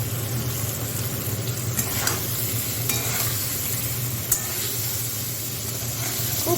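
Potatoes fry with chili powder in a pan, giving a steady close sizzle under a low hum, with faint scraping strokes now and then.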